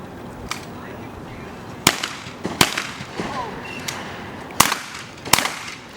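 Sharp shotgun reports from 28 gauge guns at a sporting clays championship, arriving as spaced pairs of cracks over several seconds, fairly distant, with outdoor background and faint talk between shots.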